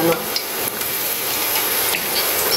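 Garlic frying in a pan before tuna is cooked, a steady close sizzle with occasional stirring scrapes and utensil clinks against the pan.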